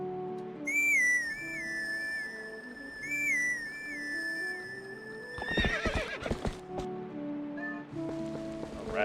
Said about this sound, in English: Get a horse.